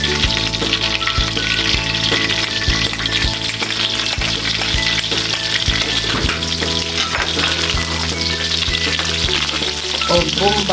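Garlic sizzling and frying in a hot pan for arroz valenciana, with steady loud crackle throughout and a few stirring clinks and scrapes of a utensil, no talk.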